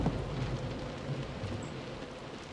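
Soft, steady rain in the video game Close to the Sun hisses throughout, a gentle continuous patter with a faint low rumble beneath it.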